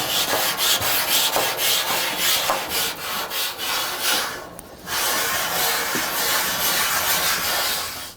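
Steady abrasive scrubbing on a rusty Blackstone cast iron griddle, a continuous close gritty rubbing with rhythmic strokes and a brief pause midway.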